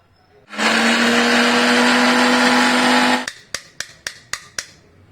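Kitchen mixer grinder pulverising whole garam masala spices into powder, a loud steady whirring roar lasting about three seconds, followed by six short sharp pulse bursts as it is switched on and off.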